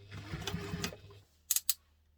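A sewing machine runs a short burst of stitching on a bowler bag at construction stitch length, a steady close mechanical whir with rapid needle rhythm. It stops and is followed by two or three light clicks, with no voices.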